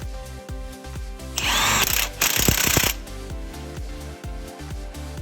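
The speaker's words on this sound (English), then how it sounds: "get your two main 22mm bolts in there, get them torqued down" A power tool driving and torquing down the two main 22mm strut bolts on a Toyota Highlander during a lift install: a steady motor whine that rises into a loud buzzing burst, then drops back to a running hum, with no talk.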